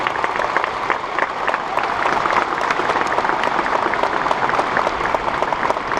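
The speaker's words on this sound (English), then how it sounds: "So let's have a nice round of applause for Patricia." Steady, dense applause from a large audience at a university graduation convocation, continuous crisp clapping filling the hall without speech on top.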